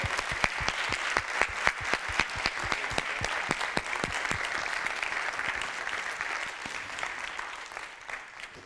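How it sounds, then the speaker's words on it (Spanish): An audience applauds at the close of a conference talk, a dense, sustained burst of many hands clapping that slowly thins toward the end, with no voices over it. "agradecerle con un gran aplauso a Carmen su charla"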